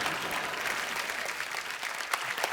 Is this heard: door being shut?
no